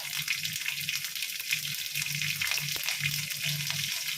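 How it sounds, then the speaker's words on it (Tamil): Mustard and fennel seeds temper in hot oil for puffed-rice upma, producing a continuous, crackling sizzle close by with a faint low rhythmic rumble underneath. "கடுகு சோம்பு போட்டு தாளிச்சிக்கணும்"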